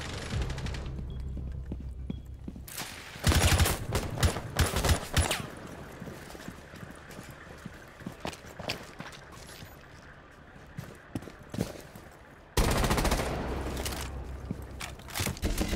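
Gunfire in the Rainbow Six Siege video game: loud bursts of rapid shots in quick clusters, separated by quieter stretches with scattered footsteps and clatter, ending in another loud sustained burst.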